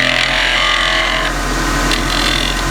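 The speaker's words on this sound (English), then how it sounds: "I'm just going to take a very light cut initially, very light initially, so that the spindle gouge doesn't want to zing off to my left along the wood" Spindle gouge taking a light cut on wood spinning on a lathe, a steady close scraping hiss over the constant hum of the running machine.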